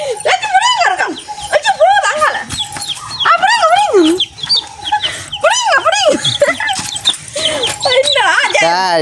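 Chickens and chicks clucking in a close, lively run of calls, with people talking over them throughout and a dog-like yelp mixed in.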